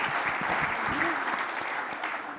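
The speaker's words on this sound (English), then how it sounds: "Let's give a hand clap for Jean." A live audience claps for Jean during a fireside chat about a book, a dense, steady burst of applause filling the room throughout, with a brief voice rising faintly underneath.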